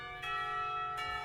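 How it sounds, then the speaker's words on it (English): Clock tower bells ring in the visual novel game Katawa Shoujo, marking the end of a school period: a sustained, resonant bell tone with two soft strikes, fairly quiet and alone. "The clock tower bells ring, signaling the end of a period."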